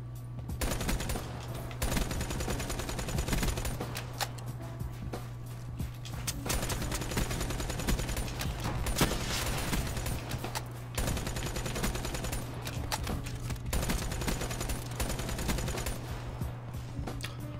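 Rapid video game gunfire in a match full of headshots, dense bursts of shots packed back to back with a steady low hum beneath, continuous and loud throughout with no talking.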